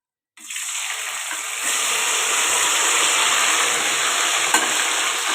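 Garlic cloves drop into hot oil for a chicken pickle and burst into a loud, dense, continuous sizzle that starts abruptly after a moment of silence and swells slightly, then holds steady.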